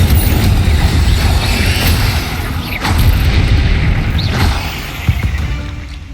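Incendio fire spell in the video game Hogwarts Legacy, a loud roaring whoosh of flame with booming, crashing bursts over continuous rumble, with no voices.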